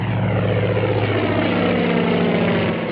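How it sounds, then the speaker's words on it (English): A propeller airplane takes off from a runway, its engine droning loud and steady throughout with a strong low hum and buzzing harmonics, close and continuous with no voices. "the plane took off"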